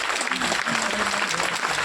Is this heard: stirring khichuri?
no